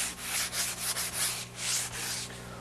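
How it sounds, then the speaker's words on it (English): Hand sanding of a wall with sandpaper wrapped on a sanding block: steady, close back-and-forth rasping strokes in an even rhythm, about five passes, with no voices. "you can go the traditional route using a sanding block and sandpaper"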